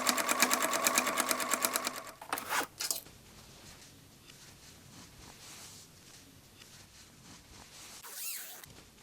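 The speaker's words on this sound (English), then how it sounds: "Stitch the lace inserts onto the jeans along the contour, masking the cut openings." A sewing machine stitches lace inserts onto jeans, a fast loud rhythmic whir for about two seconds, then quieter handling and faint background noise with a short bump near the end.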